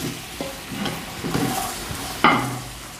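Tomatoes and salt sauté in a pan for country chicken biryani, with a soft, steady sizzle. A spoon stirs and scrapes in a few short strokes, the last one louder.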